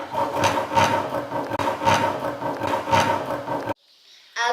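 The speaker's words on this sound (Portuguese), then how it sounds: "Eu vou serrar aqui os dois lados para fazer uma carva." Hand sawing through wood while making a primitive survival bow, steady back-and-forth rasping strokes in an even rhythm, close and loud, ending abruptly into near silence.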